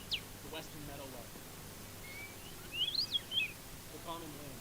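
A man whistles an imitation of a western meadowlark's song, a quick run of bright, rising and falling chirpy notes in the middle of the clip, set against background voice chatter and hum.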